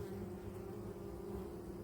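Honeybees buzzing at the entrance of a hive in an apiary, a steady, dense drone close by that holds even throughout with no talking.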